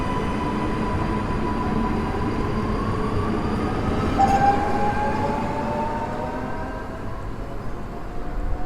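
Passenger train pulling out of a station in Warsaw, a steady loud rumble of wheels and cars rolling past, with a thin metallic squeal rising midway and the noise easing slightly toward the end; no voices.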